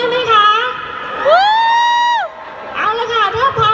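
A fan club crowd at a mall concert in Mega Bangna shrieks and cheers in a long sustained high-pitched whoop, with a host's amplified voice talking before and after.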